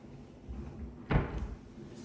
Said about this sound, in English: Pantry system with push to open doors.